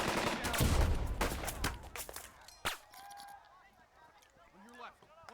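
Gunfire in the Burden of Command war strategy video game: a dense burst of loud shots in the opening seconds, followed by scattered single reports and a lone sharp crack amid quieter battlefield effects.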